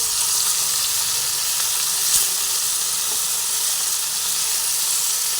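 Okra frying in oil gives a constant, bright hissing sizzle, close and even, with a faint scrape of stirring partway through and no voices.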